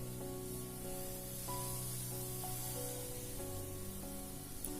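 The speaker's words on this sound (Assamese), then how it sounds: "মছলাখিনি মিক্স খালে আলুৰ লগত ধুনীয়া ভাজি হ'ব" Potatoes with spices sizzle steadily in a frying pan while an egg and potato dum curry is cooked, giving a constant close hiss with faint tonal hum underneath and no talking.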